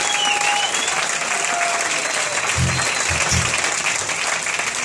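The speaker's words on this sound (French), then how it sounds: "Bon applaudissement." A concert audience gives sustained applause for the lighting technician between thanks, a dense, even roar of clapping filling the room with a few low thumps partway through.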